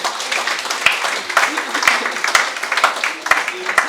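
An audience at a Lions Club governor's visit claps and applauds in an ongoing patter of hands, with a voice speaking over it.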